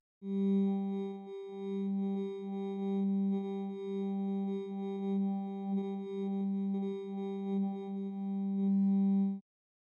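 A steady tone from the Dawesome MYTH software synthesizer, manually swept through its sound positions, with a pulsing, gently shifting timbre, sustained for several seconds, then stopping abruptly.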